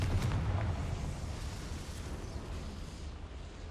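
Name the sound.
Confringo fire spell blast in video game Hogwarts Legacy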